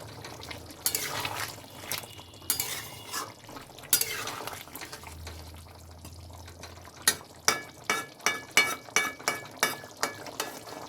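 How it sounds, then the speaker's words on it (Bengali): Chicken curry spices being stir-fried in a pan, faint sizzling with a series of sharp, rhythmic spatula scrapes and clinks against the pan, growing regular toward the end. "মশলাটা এখন কষানো হবে।"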